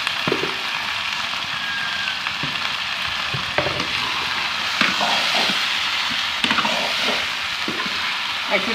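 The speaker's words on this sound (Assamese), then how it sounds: "এতিয়া মাংসখিনি দি দিছোঁ ইয়াতে অকণ ফ্ৰাই কৰি ল'বলৈ।" Broiler chicken meat frying in hot oil, with a steady dense sizzle throughout and occasional louder crackles and stirring clatters close by.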